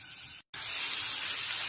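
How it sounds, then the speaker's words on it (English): Onions frying in hot oil in a pan: a steady, loud hiss of sizzling that cuts out for a split second, then resumes evenly. "fry onion"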